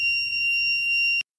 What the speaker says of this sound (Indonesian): Berarti saatnya kita untuk mencuci baju, buzzer akan berbunyi.